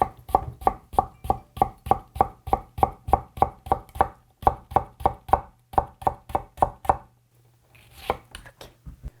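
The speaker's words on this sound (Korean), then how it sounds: "얄팍얄팍하게 썰어 보세요." Pickled radish being sliced thinly with a knife on a cutting board, a fast, even run of crisp close chops that falls silent and then ends with a few scattered knocks.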